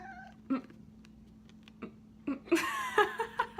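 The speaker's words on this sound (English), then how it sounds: "Okay, this is my cat Willow" A pet cat meows indoors, close and clear, with a few short calls followed by a louder, more insistent run of meows near the end and faint sounds of people in between.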